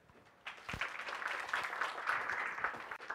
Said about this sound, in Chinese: 请大家掌声， 欢迎这个讲者。